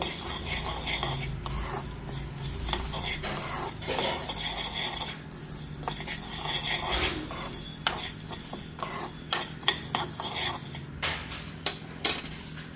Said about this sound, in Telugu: ఇప్పుడు నేను ఎండుమిర్చి వేస్తున్నా